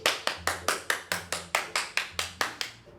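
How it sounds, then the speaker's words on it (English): Small group of hands clapping in a steady round of applause, about a dozen crisp claps at an even, fairly quick rhythm, close and alone with no talking. "Round of applause."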